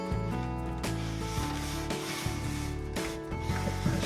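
Tape is rubbed down firmly by hand on a surface inside a narrowboat kitchen, giving close, uneven scraping strokes with a few soft knocks and no speech.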